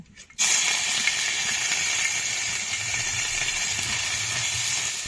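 Minced meat drops into hot white oil in a wok, setting off a sudden loud sizzle that settles into a steady, bright hiss close by, with no talking.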